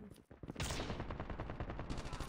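Rapid hip-fire gunfire in Call of Duty Mobile multiplayer, a quick burst of sharp automatic shots in steady rhythm, loud and close, with a voice briefly underneath.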